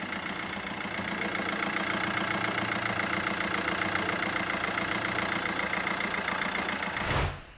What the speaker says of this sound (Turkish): Aracımızın sesi bu şekilde.